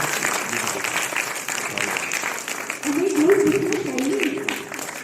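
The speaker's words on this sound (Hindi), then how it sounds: "तालियों की आवाज" Applause rises from the audience at an award ceremony honouring people with disabilities in Gautam Buddh Nagar, a broad clapping wash with speech running over it.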